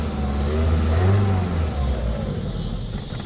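A 1985 Honda Accord engine runs on fresh fuel after sitting, revving up and easing back down at close range. The steady mid-pitched engine tone rises and falls with no talk over it.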